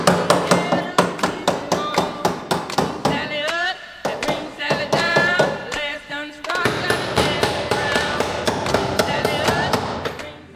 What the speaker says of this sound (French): Marteau burin, c'est comme ça qu'ils l'ont appris.